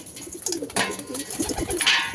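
Pigeons in a home loft crowd around trays of surki brick dust, giving loud, close, rolling coos that run together over two seconds amid rustling.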